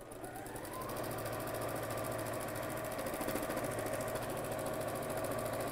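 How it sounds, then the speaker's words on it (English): A sewing machine stitches tote bag fabric in a steady, continuous mechanical whir with fast rhythmic needle chatter, running close and evenly throughout without talk. "while Allison is sewing"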